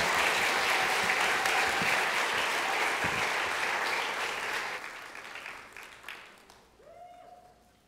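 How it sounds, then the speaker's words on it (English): Church congregation applauding during a Sunday service, a steady wash of clapping that fades out over several seconds, with a few stray claps and a faint tone at the end. "Let's give them a round of applause."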